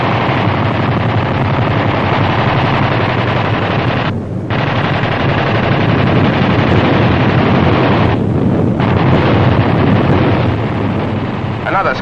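In 1945 archive film, an attack aircraft strafes with machine guns: loud, continuous rapid gunfire blends with roaring wind and engine noise, with two brief dips in the din.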